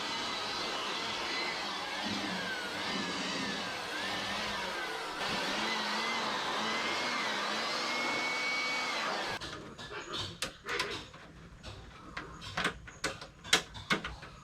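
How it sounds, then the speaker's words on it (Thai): Air blower blasting dust out of an indoor air conditioner unit in a closed room, a loud steady rushing roar that cuts off partway, followed by scattered clatters and knocks. "ไม่รู้ฝุ่นมาจากไหนเหมือนกันเดี๋ยวเป่าทำความสะอาดด้วยนะครับ"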